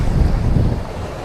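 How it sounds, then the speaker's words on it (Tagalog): Strong ocean waves roll and crash at an island shoreline, a loud, dense roar churned with gusting wind noise on the microphone, continuous throughout with no voices. "lakas ng alon"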